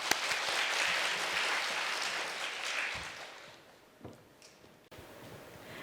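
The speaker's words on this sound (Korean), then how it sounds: "우리 박수하겠습니다." A congregation applauds during a Friday prayer service in a church, a dense wash of clapping that starts loud and full, then thins out and fades toward scattered claps near the end.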